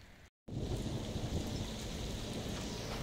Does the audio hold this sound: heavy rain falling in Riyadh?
yes